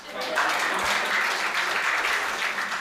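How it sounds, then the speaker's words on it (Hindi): A poetry-event audience at a Hindi comedy kavi sammelan breaks into loud, sustained applause, a dense wash of clapping that holds steady for a few seconds without speech over it. "मैं चाहता हूँ एक बार आप अपने सम्मान में जोरदार तालियां बजाइए भाई"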